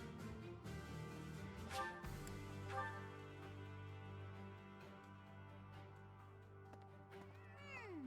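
Cats meow in the video game Fire Emblem Three Houses, a few short mewing calls rising over a steady melodic music bed, most noticeable near the end.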